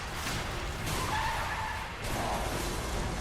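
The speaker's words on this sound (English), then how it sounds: "we could afford one tire screeching sound" A short tire screech sounds in the game Turning Point: Fall of Liberty, a brief squealing wail that rises over a dense, steady wash of background noise and is moderately loud.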